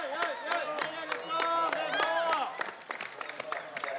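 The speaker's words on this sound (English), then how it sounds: "Gustav Bergman is getting support from the crowd throughout this course" A spectator crowd at a World Orienteering Championships sprint relay cheers and claps for runner Gustav Bergman. Rhythmic shouts and sharp claps repeat near the course, with voices mixed in.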